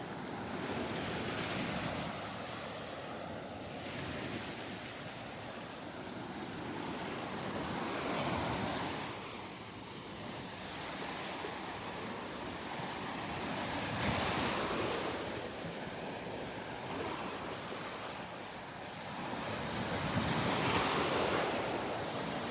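Ocean waves break repeatedly on a Gulf beach at Delnor-Wiggins, a continuous roaring wash with surges every few seconds, mixed with wind buffeting the microphone.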